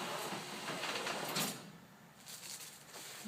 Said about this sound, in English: I'm now going to open the garage door.